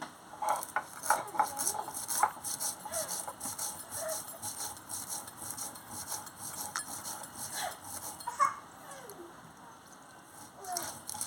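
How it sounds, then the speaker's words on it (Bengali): Cumin and mustard seeds are ground together by hand in a home kitchen, giving a steady scraping, rubbing rhythm with scattered light knocks, fairly close and moderately quiet. "এই যে একসঙ্গে জিরে আর সরষে বেটে নিচ্ছি"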